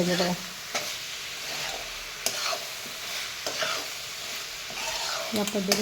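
Fresh, tender cashew seeds are sautéed in oil with masala, a constant close sizzle with periodic scraping stirs every second or so.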